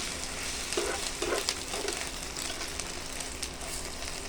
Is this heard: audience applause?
no